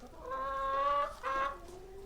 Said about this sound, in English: Stinky the hen's been in there.